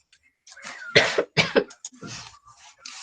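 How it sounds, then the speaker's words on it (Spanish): A few close coughs, two strong bursts in the middle with softer throaty sounds around them, in a quiet room. "qué pena ahí la tosecita"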